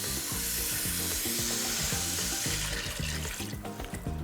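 Broccoli and kohlrabi sweat in a hot pan with a continuous bright sizzle, close and steady, while faint low tones and clinks sound underneath.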